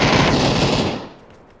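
Loud video game gunfire comes as a dense, continuous rattle of rapid shots for about a second before it cuts off and fades into a quiet tail, with no voices.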